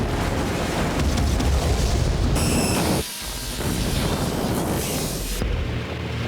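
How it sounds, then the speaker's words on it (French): A violent in-game explosion roars as a dense, loud wall of broadband rumble across the whole clip, with a sharp drop and a fresh blast near the middle and no voices. "C'est une sacrée explosion."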